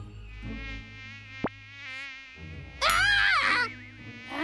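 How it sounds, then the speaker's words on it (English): Cartoon mosquitoes from a kids' animated series buzz in a thin, wavering whine that rises close and loud near the end, following quieter tonal sounds and a brief sharp accent. "Mosquitoes! Get away! Leave me alone!"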